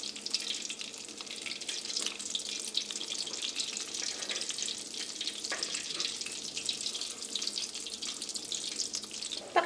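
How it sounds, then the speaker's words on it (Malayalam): Beef cutlets sizzle and crackle steadily in hot oil, a dense, even frying hiss at moderate level with no voices over it. "ഇതെടുത്തിട്ട് ചൂടായ എണ്ണയിലേക്ക് ഇടാം."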